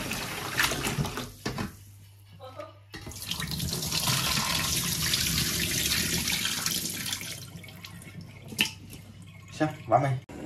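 Warm tap water runs steadily over meat being rinsed in a kitchen sink for a chestnut and pork braise, a continuous splashing rush with a short pause near the start and a few clinks toward the end.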